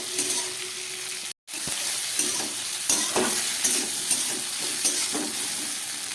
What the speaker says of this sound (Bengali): খুব ভালো করে ভেজে নিচ্ছি ফুলকপিটা।